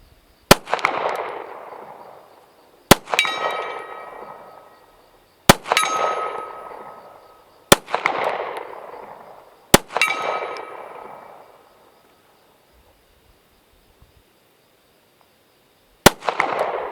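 Handgun shots ring out at night, each followed by the clang of a steel target, six hits spaced a few seconds apart with ringing metallic decay.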